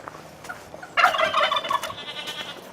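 Farm turkeys let out a sudden loud burst of rapid gobbling, which then trails off into softer scattered calls against a quiet outdoor background.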